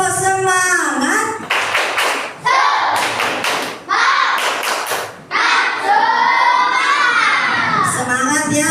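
Children in a classroom doing the tepuk semangat chant, shouting rhythmic words in unison between sharp bursts of group clapping, loud and close, with voices and claps alternating in a regular pattern.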